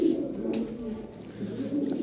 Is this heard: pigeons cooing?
yes